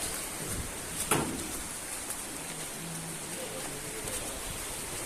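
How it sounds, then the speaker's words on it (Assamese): Steady rain falls and patters on surfaces nearby, a continuous, even hiss of raindrops with a brief louder splash near the start. "এই বৰষুণ দেখিছে নে কি লেতেৰা কৰি দিলে"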